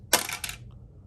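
A pair of dice clatters onto a tabletop during a Zombicide board game session, a quick bright rattle of a few hard clicks that settles within half a second, close and clear with no talking.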